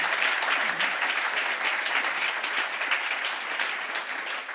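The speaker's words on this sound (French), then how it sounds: "Je voudrais qu'on applaudisse nos intervenants." A conference audience applauds its speakers, dense steady clapping from many hands filling the room for several seconds.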